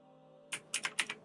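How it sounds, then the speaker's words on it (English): Computer keyboard and mouse clicks from a player during a Runescape Dragonwilds session, about five quick, close taps in an irregular burst over a faint steady hum. "can probably hear my mouse or my keyboard more than the game"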